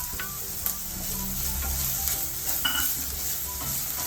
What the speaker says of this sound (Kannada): ಅದಕ್ಕೆ ಇದರಲ್ಲೇ ಚೆನ್ನಾಗಿ ಹುರ್ಕೋಬೇಕು